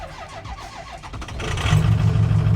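High-mileage truck with about 300,000 miles starting up: a cranking starter stutters for over a second, then the engine catches and settles into a loud, steady idle close by.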